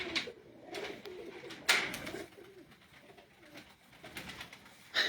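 Pigeons coo softly in a low, uneven murmur against faint outdoor background noise, with a few sharper rustles and flutters breaking in.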